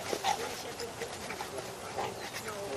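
Dogs at play give soft whimpers, yips and panting in short bursts, fairly quiet and close, with a person's voice talking intermittently among them.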